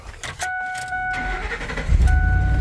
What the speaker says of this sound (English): All right, she's starting right up.